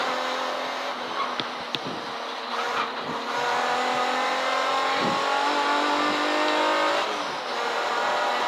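A race car on a circuit at Castle Combe accelerates hard out of a corner, a loud, steady in-car engine drone that climbs in pitch under full throttle, with brief clunks and a short dip near the end.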